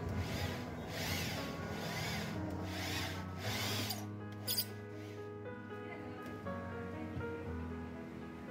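A powered screw machine drives a screw into a deep freezer door that will not close, giving several loud, close whirring bursts in the first half, then a quieter stretch with a steady hum.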